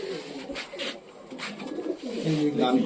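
High flyer pigeons, a male Jakchita among them, coo softly and repeatedly at close range, with low murmuring calls and faint talk in the background.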